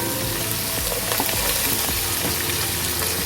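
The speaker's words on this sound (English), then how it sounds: "onion, and then fry it" Onion and curry leaves frying in a pan, a steady close sizzle with crackles and small spatters that persists throughout without any talk.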